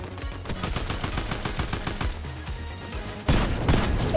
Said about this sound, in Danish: Altså, flere skud efter mig.